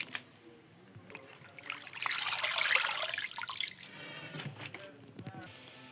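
Water splashes and trickles as bottle gourd leaves are rinsed by hand, a close, steady wash that swells in the middle and then eases off.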